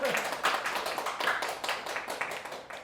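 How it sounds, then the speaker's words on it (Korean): A lecture audience at a youth center in Seoul breaks into brisk applause, many hands clapping densely and fairly close, sustained for a few seconds. "박수 한번 주세요."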